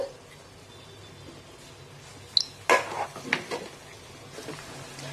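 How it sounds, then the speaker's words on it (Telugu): Mutton curry is stirred in a pot after mint and coriander go in: a short run of close metal clinks and scrapes from the spoon against the pot rises out of a quiet background, with no talk. "ఇందులోనే ఇప్పుడు కొంచెం పుదీనా, కొంచెం కొత్తిమీర అనేది వేసుకొని బాగా కలుపుకోవాలి"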